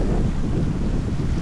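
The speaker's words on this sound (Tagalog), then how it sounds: "Kasi paharap sa akin yung hangin eh." Strong wind buffets the microphone in a steady low roar, with water and waves faintly audible beneath, while fishing outdoors.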